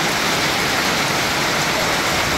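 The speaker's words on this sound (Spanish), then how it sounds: "Y ahorita está lloviendo." Steady rain falls close by, a dense, even hiss of drops striking a surface with no pauses.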